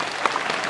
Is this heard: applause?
yes